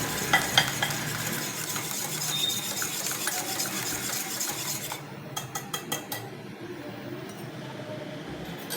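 Sugar and yeast being stirred together in a bowl with a utensil, a steady scraping and clinking that runs continuously, then breaks into sparser, sharper taps near the end.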